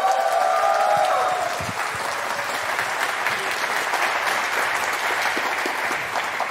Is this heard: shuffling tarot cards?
no